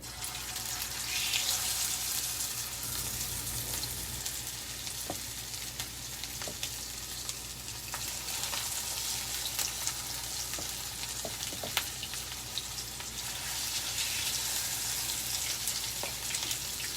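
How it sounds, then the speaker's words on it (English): Steady sizzling and crackling of plant-based vegan crab cakes browning in a frying pan, continuous and fairly close, with occasional light clicks and scrapes. "I'm gonna let these brown up just like I would a crab cake"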